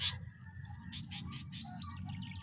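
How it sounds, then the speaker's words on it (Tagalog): A bird near its nest gives a run of sharp, agitated chirps in quick bursts, fairly close but not loud, over a low steady background hum with no talking. "Andito ka na namang ibon ka."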